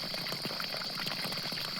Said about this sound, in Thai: กลายเป็นน้ำตกน้อยๆแบบนี้